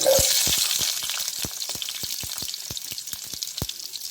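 Small shallots frying in sesame oil in a kadai give a close, steady sizzle with a stream of sharp pops and crackles scattered irregularly over four seconds, no voices.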